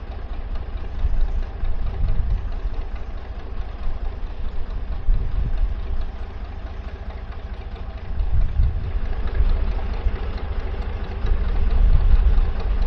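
Narrowboat diesel engine chugging at slow tick-over on the Oxford Canal, a steady low rhythmic thrum, close and continuous with slight swells in loudness.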